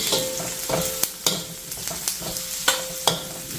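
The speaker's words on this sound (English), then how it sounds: "The onion has to be nicely sauteed" Onions and curry leaves sizzling in a hot kadhai for spicy chicken curry, with a steady crackling fry broken by sharp, irregular scrapes and clatters of stirring close by.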